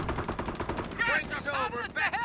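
Machine gun and rifle fire from the strategy game Company of Heroes crackles in quick repeated bursts, loud and close, along with what sounds like a voice in the background.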